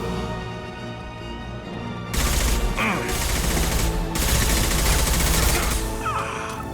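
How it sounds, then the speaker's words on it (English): Gunfire erupts in Mass Effect 2 as dense, continuous bursts crash in loudly after a quieter musical lead-in, roaring steadily over several seconds with a brief lull midway. "Nice shooting! Snipe that one!"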